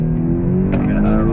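A 2015 BMW X6 M engine revving hard under full acceleration on the Circuit of the Americas track, a loud, steady rising drone heard from inside the car.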